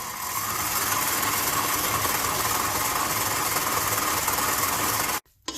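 An electric mixer beats butter and sugar at a higher speed, giving a loud, steady whirring drone that holds evenly for about five seconds and then cuts off abruptly near the end.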